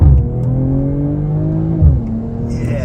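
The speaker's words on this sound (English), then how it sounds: "But first gear on the gas." A 2023 BMW M440i accelerates hard in first gear, its engine note climbing steadily in pitch, then a quick dip as it shifts and the revs pick up again, close and loud from inside the car.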